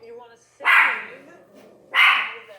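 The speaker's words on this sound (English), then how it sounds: "Barking dogs." Two sharp dog barks land about a second apart, loud and close, with a faint whimper or yip just before the first.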